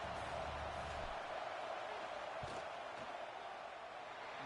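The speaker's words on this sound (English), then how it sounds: "This crowd trying to do its part to get inside the kicker's head." Stadium crowd at a college football game against Nebraska during a field goal attempt, a constant, distant roar of noise with a couple of faint thumps, some indistinct voices mixed in.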